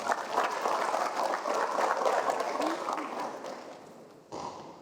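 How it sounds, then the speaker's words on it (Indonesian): A crowd applauds at a graduation ceremony with dense, even clapping that gradually fades, followed by a short final burst of claps. "Tepuk tangan dulu untuk periode selanjutnya."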